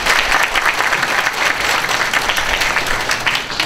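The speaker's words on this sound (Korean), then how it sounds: "큰 박수로 모시겠습니다" A large audience at a Korean youth forum where young people interview Moon Jae-in bursts into loud, sustained applause to welcome a high-school-graduate job seeker, a thick continuous wash of clapping close to the microphone.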